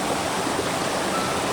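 Clear, cold stream water flows steadily at Manikmoyo waterfall, a continuous close rushing wash with no voices.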